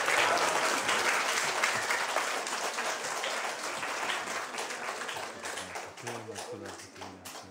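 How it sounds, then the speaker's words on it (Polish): An audience at an open church meeting of testimonies claps for a brother, a dense, loud burst of applause that slowly thins out into scattered claps while a voice speaks over the end. "Jeszcze raz brawo naszego brata."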